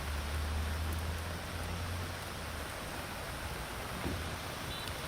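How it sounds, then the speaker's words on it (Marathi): Heavy rain pours down in Mumbai as a dense, continuous hiss with a low rumble early on and no let-up. "मध्यरात्रीपासून पाऊस पडतोय"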